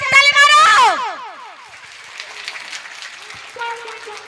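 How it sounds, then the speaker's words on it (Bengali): An audience at a comedy stage show breaks into applause right after a loud spoken call. The clapping is a moderate, steady patter that carries on for a few seconds, with a brief voice near the end. "একবার জোরসে হাততালি মারো।"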